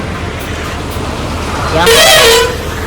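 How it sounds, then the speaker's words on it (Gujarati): A vehicle horn honks loudly once for about half a second, standing out over steady road rumble as a departing vehicle pulls away. "હાલો ઉપડી ગઈ હોરન વાગી ગયો"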